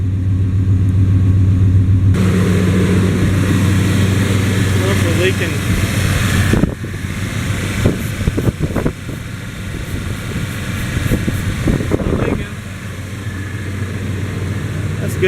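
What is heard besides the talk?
Chevrolet TBI 305/350 engine idling after IAC valve cleaning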